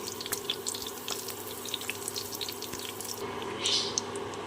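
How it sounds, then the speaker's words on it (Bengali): Dried red chili, bay leaf and whole cumin fry in hot oil for a Bengali banana-flower ghonto, giving a steady close sizzle and crackle throughout, with a slight swell near the end. "গোটা মশলাগুলো ভেজে নিয়েছি"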